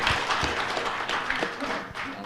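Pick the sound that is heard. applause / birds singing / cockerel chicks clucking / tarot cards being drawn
applause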